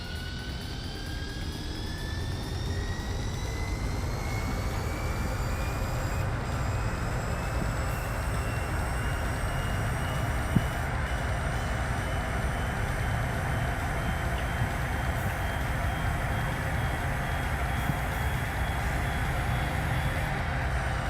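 Chaparral 2J race car in Gran Turismo 4 on Circuit de la Sarthe, a steady loud droning engine roar with a rising whine as it accelerates, continuous and alone throughout.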